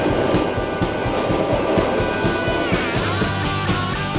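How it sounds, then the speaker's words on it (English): A London Underground Tube train rumbling loudly and steadily with rhythmic clattering wheels, a continuous close-up roar that rises into a screeching tone near the end, with no talk. "The Tube is London's subway."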